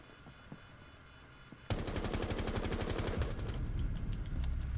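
Turret gunfire in Rainbow Six Siege, a loud sustained burst of rapid automatic shots that starts abruptly after a quiet opening and keeps going to the end.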